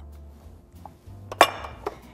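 Batter being scraped and poured into a springform pan in a kitchen, giving a few light metallic clinks and a sharper clatter near the middle over a low steady hum.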